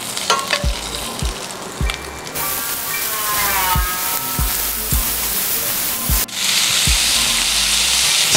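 Pork belly sizzles loudly on a backyard grill with a dense, spattering crackle. Regular dull thumps and knocks sound throughout, and the fat hisses louder in a burst near the end.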